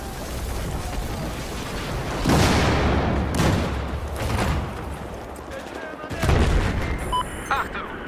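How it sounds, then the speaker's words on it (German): Grenades go off in a Battlefield 4 multiplayer Domination match on PS4: two heavy booms land a few seconds apart amid scattered gunfire, with a player's voice talking over the action. "Und da fliegt schon wieder eine Granate."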